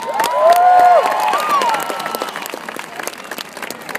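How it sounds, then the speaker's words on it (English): An audience at a community college event breaks into applause and cheering, with a whistle rising at the start, then the clapping and crowd noise gradually thin and fade. "Please give them a big round of applause."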